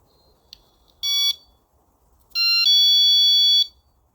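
Two electronic chime tones ring out close by from a magnetic window alarm, a short one followed by a longer two-note chime, with quiet between them.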